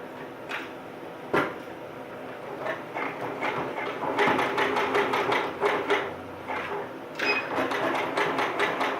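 Sewing machine stitching a narrow zigzag across the top of fabric, a fairly faint, steady mechanical whirr with rapid ticking needle strokes and a few soft knocks.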